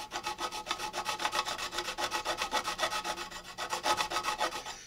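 Metal guitar frets being filed on a neck, a rapid rhythmic series of rasping strokes, close and fairly quiet, with no talking.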